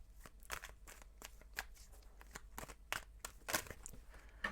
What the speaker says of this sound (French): Je vais prendre le tarot, on va tout brasser ensemble.